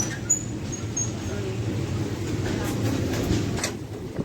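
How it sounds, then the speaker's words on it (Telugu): A long-distance passenger train rolls onto platform 4 at Thiruvananthapuram Central station, a continuous low rumble with a few faint clicks and brief higher squeaks over it. "మన ట్రైన్ అయితే ప్లాట్ఫామ్ నెంబర్ 4 పైకి వచ్చింది"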